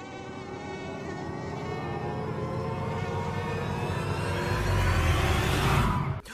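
Swarming mosquitoes buzz in a steady, close whine with layered overlapping tones, swelling louder toward the end before cutting off abruptly.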